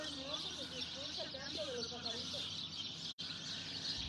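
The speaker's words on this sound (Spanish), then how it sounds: "cómo se oyen bonitos los pajaritos" Small birds chirp and tweet in quick, thin calls over a steady background hiss, fairly faint and distant.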